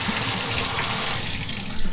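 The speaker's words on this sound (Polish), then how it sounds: "Kiedy się odkręca, leci na dole woda" Water running from a bathroom tap turned on by a single knob, a steady close hiss and splash filling the whole clip, fairly quiet, without talking.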